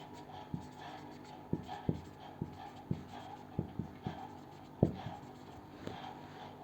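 A pen writing on paper, making a quiet run of short taps and strokes at an uneven rhythm, close and faint over low background noise.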